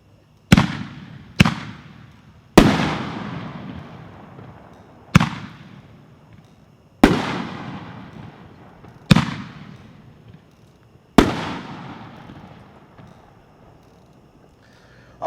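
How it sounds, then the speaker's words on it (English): Corn Cannon 60 gram canister shell fireworks burst outdoors in a string of seven loud, sharp explosions, each echoing and decaying over a couple of seconds, spaced irregularly. "It's called Corn Cannon, 60 gram, package 424."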